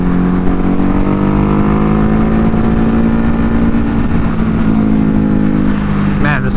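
A Ducati Hypermotard 950 motorcycle under way on a highway, its loud engine drone holding steady pitch then easing, with constant wind rush and someone talking over it.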